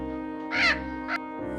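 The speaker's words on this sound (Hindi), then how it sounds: "तभी वहां वह तोता आता है। वह जोर जोर से शोर मचाता है" A cartoon parrot lets out two harsh, loud squawks, a long cry followed by a shorter one, over a sustained musical drone.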